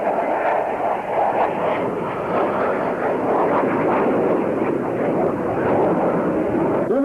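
A Blue Angels jet at a 1987 airshow at Carswell Air Force Base takes off and rolls a full 360 degrees with its landing gear down, its engine a loud, continuous roar that holds steady throughout.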